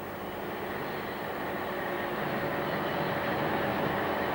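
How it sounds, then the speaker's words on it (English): An iron ore train arriving at the Port Hedland unloading complex gives a continuous low rumble and rolling roar, steady and moderately loud, slowly swelling a little over a few seconds. "Journey's end for the ore trains is Port Hedland"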